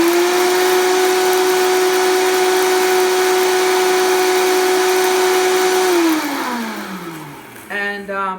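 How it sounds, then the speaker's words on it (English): A Vita-Mix blender grinds dehydrated lemongrass into powder with a loud, steady motor whine that holds for about six seconds, then winds down in falling pitch, followed by a few light rattles. "So I figured that the Vita-mix would make it quicker"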